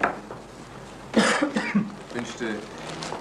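A man in a 1963 jury-room film coughs in a short burst of rough, close hacks and throat clearing, with a voice murmuring around the coughs.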